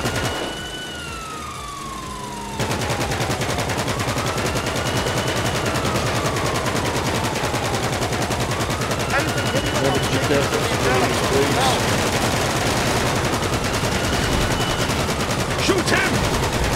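In the video game GTA 5, a minigun fires continuously from a car, a dense, steady roar of rapid fire over police sirens wailing up and down, with voices talking over it.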